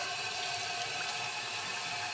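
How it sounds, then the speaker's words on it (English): Cold tap water pours steadily into a sieve of lentils at a kitchen sink, making a constant hissing splash that stays close and even throughout, with no talking. "you pour this in to the sieve, and you run under the cold water"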